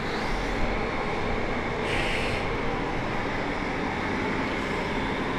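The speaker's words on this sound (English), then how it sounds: "This steamer comes on. You hear that?" A gym steam room steamer hisses with a loud, steady broadband rush that swells briefly brighter partway through, with no voices.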